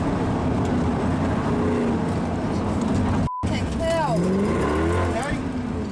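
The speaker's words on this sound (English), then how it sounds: "got scattered across the road by the incoming Merc of Mertens" A Mercedes rally car arrives at a crash scene on a Targa NZ tarmac rally stage, its engine note rising and sweeping in pitch under continuous narration, with a brief dropout midway.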